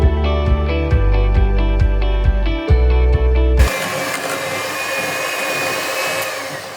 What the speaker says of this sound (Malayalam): ഇനി ബട്ടറും പഞ്ചസാരയും കൂടി നമുക്ക് നന്നായിട്ട് തന്നെ ഒന്ന് മിക്സ് ചെയ്തെടുക്കാം.